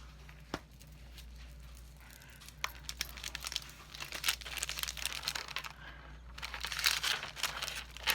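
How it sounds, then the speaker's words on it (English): Anna Griffin Christmas paper handled and crinkled up close, with steady rustling and crackling that swell louder toward the end. "this is just some of Anna Griffin's paper, her Christmas paper."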